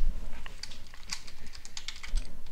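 Rapid typing on a computer keyboard, a close stream of sharp clicky keystrokes in an irregular rhythm with a few heavier presses, nothing else heard.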